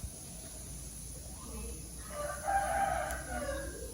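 A rooster crows at a distance, one drawn-out call rising and falling over a low background hum.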